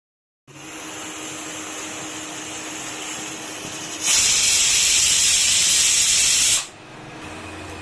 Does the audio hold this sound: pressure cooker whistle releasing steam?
yes